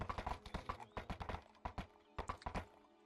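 Rhythmic clip-clop of horse hooves trotting on a hard surface in a video game, steady and fairly close, with brief pauses between bursts of steps.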